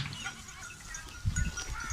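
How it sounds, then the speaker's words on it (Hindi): Goats and sheep in a grazing flock, with a brief low bleat or two rising near the end over steady outdoor ambience. "40-50 साल से यही भेड़ें बकरियां चरा रहे हैं।"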